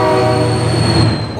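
Train rumbling past with a sustained horn blast in a truck-and-train crash video game, loud and close, steady tonal horn over rolling rail noise throughout.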